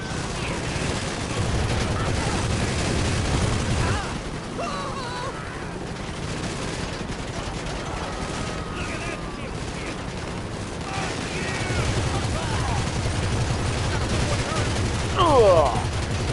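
Gunfire rattles through the GTA V video game in dense, sustained volleys under a steady din, with a voice briefly heard in the mix.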